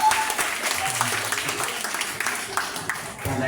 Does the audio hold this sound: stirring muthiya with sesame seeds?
no